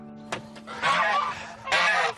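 Geese give two loud, harsh honking bursts close by, with a short sharp call just before them.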